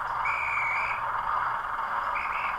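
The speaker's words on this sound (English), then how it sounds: "the guard then blows his whistle" A guard's whistle from a model railway sound system, two shrill steady blasts, the first longer and the second short, over a constant background hum.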